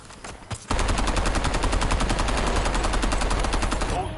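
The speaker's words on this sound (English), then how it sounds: "You can see I'm just like blind firing" Rapid automatic gunfire in a battle royale shooter's Resurgence mode, a dense unbroken burst of blind-fire shots that starts loud and close after a brief lull and carries on to the end.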